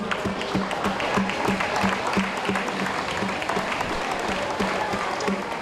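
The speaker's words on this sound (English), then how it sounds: "one more round of applause for your 1974 Lower Bucks County League champions" A high school gym crowd applauds the 1974 Lower Bucks County League basketball champions and their coach in a dense, steady wash of clapping that holds loud and even throughout.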